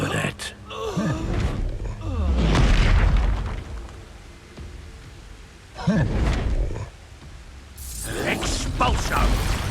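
Spell blasts of the Expulso explosion in the Hogwarts Legacy video game, several loud booming bursts with rumbling impacts spread across the clip, mixed with game effects.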